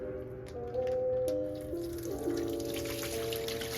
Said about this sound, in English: I'm gonna pour them in the net to keep all the water out